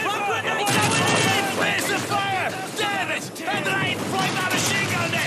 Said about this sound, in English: the baddies always have the machine guns running around.